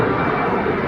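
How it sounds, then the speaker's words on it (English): A Jet2 holidays airliner taking off for Dalaman at East Midlands Airport, heard as a loud, steady broadband engine roar that holds evenly throughout the moment. "there is a Jet2 holidays just taking off"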